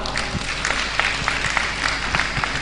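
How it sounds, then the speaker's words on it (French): Audience applause at a school excellence-day ceremony in Baol, a steady wash of clapping from a crowd filling the hall, with scattered louder claps standing out. "Applaudissez vos parents qui sont là"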